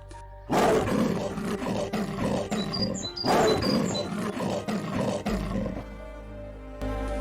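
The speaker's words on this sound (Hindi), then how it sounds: "बब्बर शेर, और ये हमारे भारत का कौमी जानवर है, शेर।" A lion roars loudly and close, in long rumbling bouts that repeat twice in succession, then fade into quieter background sound.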